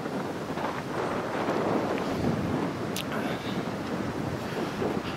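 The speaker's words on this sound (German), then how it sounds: "Ist wieder ziemlich windig." Strong wind buffeting the microphone on an exposed mountain ridge, a steady broadband roar with gusty swells throughout and no clear voices.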